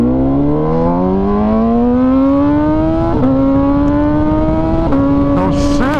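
An MV Agusta Brutale 1000 RR motorcycle engine revs up loudly and close, climbing steadily in pitch, with sharp quick gear shifts that drop the tone before it rises again. Brief clicks come near the end.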